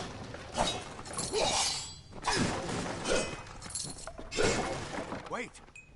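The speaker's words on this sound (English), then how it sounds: "The sound of me smashing crates and looting shit." Wooden crates smashed apart while looting in Kingdoms of Amalur: Re-Reckoning, giving several sharp breaking crashes spaced a second or so apart beneath someone talking throughout.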